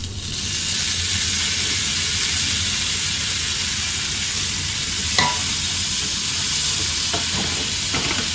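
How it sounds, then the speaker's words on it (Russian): Onions and vegetables frying in a pan, a loud continuous sizzle close by with a brief clink partway through and no talking. "Лук немножко поджарился, и теперь добавляю оставшиеся овощи."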